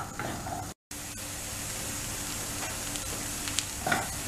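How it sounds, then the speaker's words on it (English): Onions roasting in a hot pan for mutton curry, a steady close sizzle and hiss with occasional soft stirring scrapes and a brief break near the start. "Roast these onions till it gets dark brown in color."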